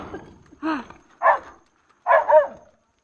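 Three short, sharp dog barks spaced about a second apart, close by, with brief quiet gaps between them.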